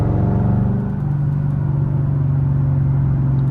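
A Chevrolet Camaro SS engine drones steadily while driving, a loud, close, even rumble with a constant low hum and no clear revving.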